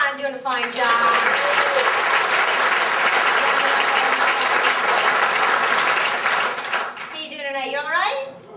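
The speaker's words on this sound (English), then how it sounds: "Clap for John doing a fine job." An audience applauds for host John, steady sustained clapping that fills most of the stretch, with a speaking voice just before and after.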